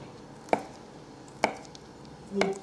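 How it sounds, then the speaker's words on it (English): Knife slicing through soft bocconcini cheese on a cutting board, three distinct close taps of the blade meeting the board spaced about a second apart, with a quiet background. "We'll cut the bocconcini as well in some slices."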